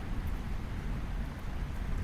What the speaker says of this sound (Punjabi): ਮੀਂਹ ਬੜਾ ਪੈਣ ਦਿਆ ਵਾ